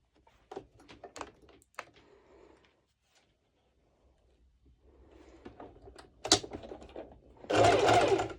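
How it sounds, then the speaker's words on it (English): A home sewing machine runs a straight stitch on swimsuit fabric at the bust seam: several short motor whirs and stitch clicks, then a loud, sustained burst of stitching close by at the end, with no talking. "I'm going to do a straight stitch over here"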